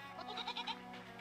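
A goat in the video game REKA bleats in a short wavering cry of several quick pulses over a steady background hum, fairly faint and unaccompanied by talk.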